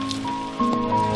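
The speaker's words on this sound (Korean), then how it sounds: "흐려진 날씨, 가을비가 내리는데" Autumn rain falls steadily on a gray, overcast day, a soft continuous patter of drops on surfaces heard close and alone, with a low tonal hum beneath it.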